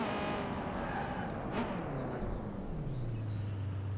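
A battered car drives in the video game Watch Dogs 2, its engine droning continuously and rising then falling in pitch as it accelerates and slows, with a brief skid-like squeal midway.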